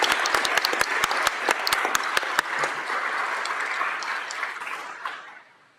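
A room applauds graduates at a public works department meeting: a few sharp, close claps stand out over a steady round of applause that gradually thins and fades to silence.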